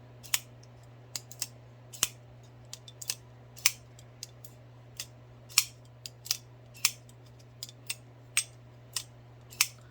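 A SOG Pentagon folding knife is opened and closed repeatedly, giving a string of crisp metallic clicks and short gritty scrapes at an irregular pace, close up and alone over a faint steady hum.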